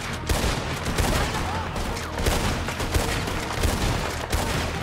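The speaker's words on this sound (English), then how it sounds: "we're gonna go ahead and cover fire for Rockland" Dense covering gunfire in an outdoor firefight, rapid overlapping shots and bursts crackling continuously and loudly, with players calling out under the barrage.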